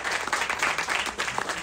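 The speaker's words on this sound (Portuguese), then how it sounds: "Aplauda ao Senhor esta noite." A church congregation breaks into steady applause at an evening worship service, a dense, sustained wash of many hands clapping together for a couple of seconds.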